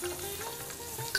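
Chopped potato, eggplant and radish sizzle in a hot pan for a spinach ghonto, a steady close frying crackle with a few brief clicks and no talking.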